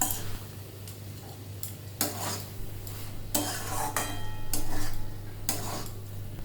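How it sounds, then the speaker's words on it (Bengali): Rice, boiled potato and banana stem stirred with ghee in a pot, with scattered spoon scrapes and metal clinks over a low steady hum, close and fairly quiet. "ভালো করে নাড়াচাড়া করে নিয়ে এটাকে নামিয়ে নিলাম"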